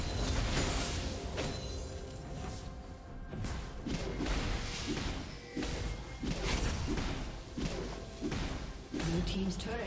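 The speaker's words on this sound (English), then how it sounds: "Blue team's turret has been destroyed." A turret is destroyed in a League of Legends match, with repeated crashing smashes, heavy thuds and swooshes layered over continuous game effects and voices.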